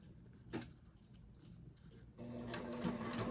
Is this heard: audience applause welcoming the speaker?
no